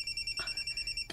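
A telephone rings with a steady electronic trill that pulses rapidly and evenly, heard briefly and up close with no voices over it.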